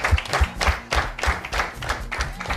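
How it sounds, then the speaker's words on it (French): An audience on a televised children's talent show claps hard and in rhythm, with the claps landing in repeated bursts over a continuous bed of applause. "On applaudit très fort pour l'encourager."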